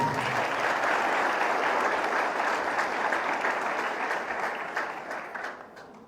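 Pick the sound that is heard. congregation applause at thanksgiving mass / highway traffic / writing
congregation applause at thanksgiving mass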